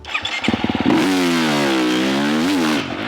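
A 2025 KTM 350 XC-F dirt bike with an aftermarket FMF exhaust barks through a few rapid revs, then holds a loud, raspy drone before easing off, close and unaccompanied by talk, in wooded terrain.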